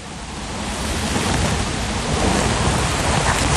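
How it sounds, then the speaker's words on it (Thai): Steady, loud rain pours down in a forest during mushroom picking, a dense continuous hiss that swells slightly and never lets up. "ฝนก็ตกมาสิคะ"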